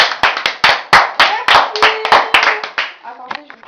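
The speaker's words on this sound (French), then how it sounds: "Moi aussi, j'applaudis." Repeated sharp hand claps in an irregular rhythm, close and loud, with people talking and laughing underneath.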